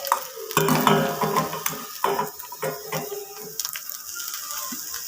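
Onions and green chillies go into hot coconut oil and start to sizzle, a spatula clattering and scraping the pan in close irregular bursts over the faint frying hiss.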